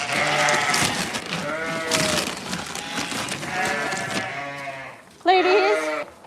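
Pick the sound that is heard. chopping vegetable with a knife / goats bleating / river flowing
goats bleating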